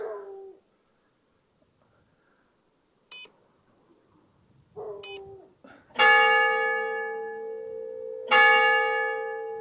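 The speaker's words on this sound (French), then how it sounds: "C'est bien les cloches qui font sonner" Two bright metallic church bell strikes ring out and decay slowly, preceded by softer electronic beeps and tones from a ghost radar detector in an otherwise quiet space.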